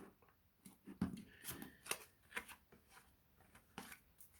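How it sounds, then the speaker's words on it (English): Tarot cards being shuffled by hand, a quiet run of soft papery riffles and taps in short bursts, close and faint, with no talking. "keep shuffling until I find one card"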